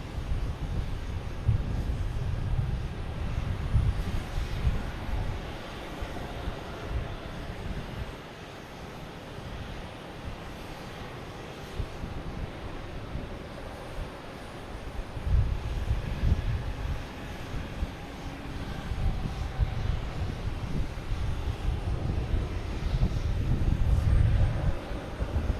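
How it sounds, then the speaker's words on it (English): A Delta airliner taking off at Boston Logan Airport, a broad, steady jet roar heard from a distance that swells and eases over a long stretch, growing loudest toward the end. "And taking off, we have Delta heading to Raleigh-Durham."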